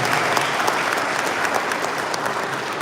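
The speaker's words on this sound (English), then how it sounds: "can we give another round of applause?" Sustained, loud applause from an audience at an Akwa Ibom traditional rulers council session, dense even clapping filling the room without pause.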